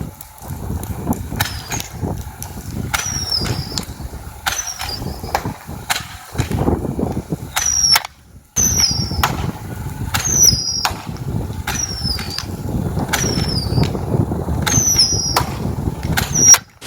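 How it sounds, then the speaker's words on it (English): A Nerf Ultra Scream Machine blaster fires screaming darts in a rapid series of sharp shots, each followed by a brief high whistling shriek, repeating steadily with a short pause partway through, loud and close. "hopefully you can hear what these screaming darts sound like"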